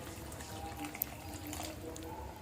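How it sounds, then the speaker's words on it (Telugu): Water is poured into a pan of Punjabi chole masala gravy, a faint soft trickle under quiet kitchen background with one small clink. "నేను వాటర్ని ఇంకా యాడ్ చేస్తున్నాను."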